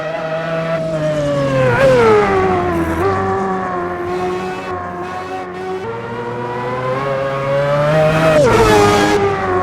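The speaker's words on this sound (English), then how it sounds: "This R390 GT1, one of my favorite cars of all time." A Nissan R390 GT1 race car in Assetto Corsa, its engine roaring loud and close with rising revs, quick shifts and repeated throttle surges.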